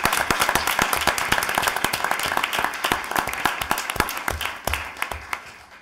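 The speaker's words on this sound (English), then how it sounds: "I really would just like to give a round of applause and big congratulations to my students" Audience clapping at a school board of education meeting, a dense sustained round of applause with sharp individual claps, holding steady then thinning and fading toward the end.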